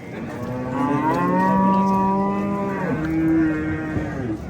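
A cow moos twice nearby at a livestock market, long drawn-out lowing calls, one right after the other.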